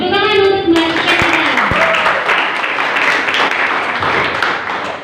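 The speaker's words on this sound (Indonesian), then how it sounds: "tepuk tangan untuk Mbak Tika" Audience applause for a student at a school student council candidate debate, starting after a short held tone and continuing as a fairly loud, steady patter of clapping hands for several seconds.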